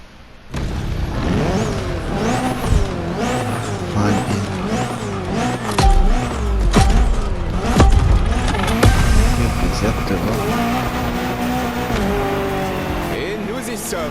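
Race cars in The Crew Motorfest roar and rev through a game race, engines rising and falling loudly with tire squeal and skids, layered under music and a commentator's voice throughout.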